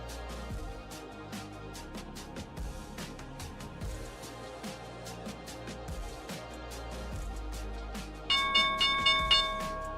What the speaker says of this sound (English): there's the opening bell